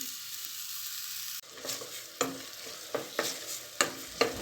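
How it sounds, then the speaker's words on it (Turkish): Soft sizzling of onions and garlic sautéing in a pan with a handful of scraping, clacking stirs at irregular intervals, fairly quiet and close. "Şöyle güzelce bir soğanlarımızı kavuralım."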